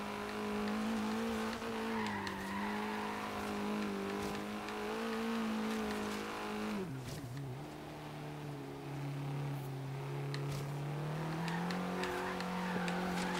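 A lightweight road racer in Forza Horizon 3 slides its rear end out, a steady engine drone overlaid with long tire squeal that dips and shifts pitch midway, then steadies again.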